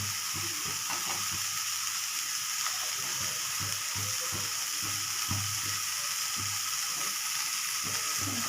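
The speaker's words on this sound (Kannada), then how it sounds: "ಟೊಮೊಟೊ ಹಾಕ್ಕೊಂಡು ಹುರ್ಕೊತೀನಿ" Tomato frying in a pan for masala vada and coriander chutney, a steady close sizzle with soft stirring scrapes and clicks running throughout, no voices.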